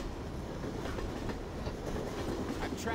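A moving train in the Left 4 Dead 2 video game, on the Pain Train custom map, clatters loudly and steadily with a continuous rumbling rattle of wheels and carriages throughout.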